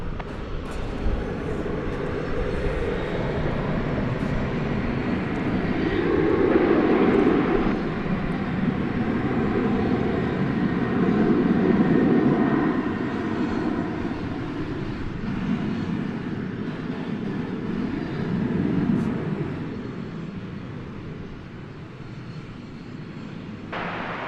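Airplane at DFW Airport in the evening, a loud jet engine roar that swells, peaks and fades as the aircraft passes, heard from a distance in open air, with no voices.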